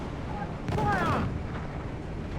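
Ship cannons fire in Assassin's Creed IV: Black Flag, a single booming report over churning sea and wind, with a voice shouting alongside.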